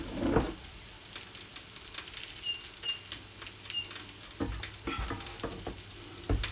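Rice cakes frying in a hot pan with a steady, close sizzle and crackle throughout, joined by occasional scraping and clinking of a utensil against the pan.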